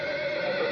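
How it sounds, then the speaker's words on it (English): Akhal-Teke horse giving a brief, loud whinny, a single sustained tonal neigh heard close and clear with nothing else around it. "It's an Akhal-Teka, one of the most beautiful, spirited, and rarest of thoroughbreds in the world."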